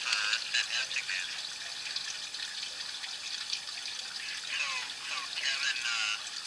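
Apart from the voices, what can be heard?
water running through a drain pipe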